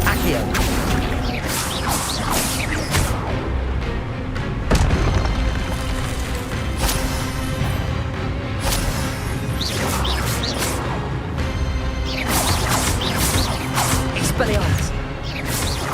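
In Hogwarts Legacy, the Expelliarmus spell goes off again and again in busy combat as repeated whooshing bursts and booms over a constant game soundscape, with talk mixed in.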